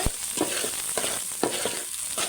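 Onions fry in a pan with a steady bright sizzle, broken by repeated stirring scrapes and clacks roughly every half second, close and clear with no talking.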